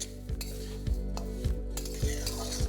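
Semai vermicelli frying in a pan over a low flame sizzles softly while a utensil stirs it, scraping the pan in about five regular strokes.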